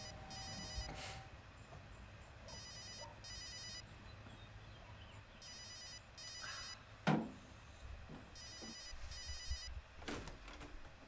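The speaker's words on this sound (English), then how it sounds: "Longest ringtone ever." A telephone rings in repeated bursts of bright trilling tones, with short gaps between rings, against a quiet room with a brief thump midway.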